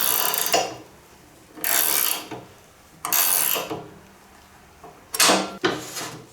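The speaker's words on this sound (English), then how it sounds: "just tighten up the nut until the chute becomes harder to turn" On an Ariens snowblower chute, a 9/16 nut is tightened with a wrench in repeated ratcheting strokes, giving four bursts of close, gritty clicking separated by brief pauses.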